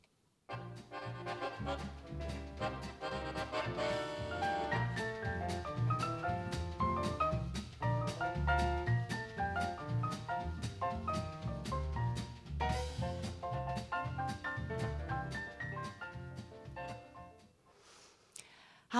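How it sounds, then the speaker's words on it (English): A brisk, rhythmic passage of traditional Afrikaner folk music plays for nearly twenty seconds, with steady plucked and squeezed melodic notes over a bouncing bass pulse, fairly quiet, ending abruptly. "if you were to Google Afrikaner music, you would probably come across something that sounds like this."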